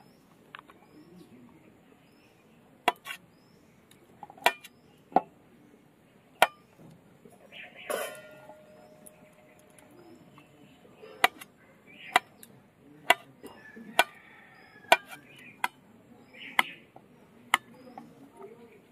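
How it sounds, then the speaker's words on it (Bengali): Knife cuts through boiled potatoes into small pieces on a board, heard as sharp, separate chops that come irregularly and fairly close, with quiet background rustle between strokes. "এই সিদ্ধ করা আলুগুলো আমি এবার কেটে নেবো ছোট ছোট করে।"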